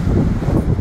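Wind blowing outdoors on a sunny, breezy day near a 7-Eleven, a brief loud rumble buffeting the microphone with low gusty roar, no talk.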